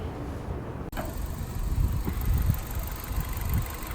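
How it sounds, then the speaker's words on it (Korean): A 2016 Renault Samsung SM3 Neo car engine starts abruptly and then idles steadily, giving a close, even low hum with a faint high whine, and no one speaks. "엔진 소리가 너무 좋아요. 네. 너무 조용하고"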